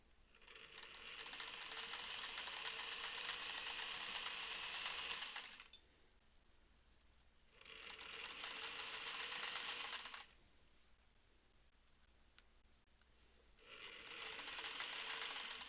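A sewing machine runs in three steady stitching bursts along quilt seams, each a few seconds long, with quiet pauses between them and no talking.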